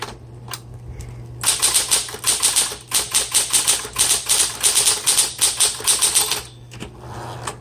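Rapid, steady keystrokes on a 1970s Smith Corona Electra 120 electric typewriter clatter close by in a continuous burst, with a low motor hum underneath and brief pauses at the start and end.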